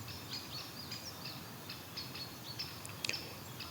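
Birds chirping outdoors, with faint scattered calls and tweets over a low steady background hum, distant and quiet.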